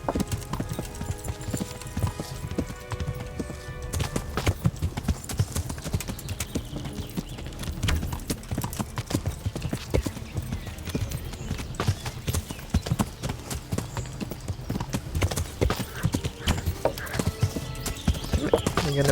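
A horse gallops in the Kingdom Come Deliverance video game, its rapid hoofbeats drumming steadily and close throughout, with game noise and occasional speech over it.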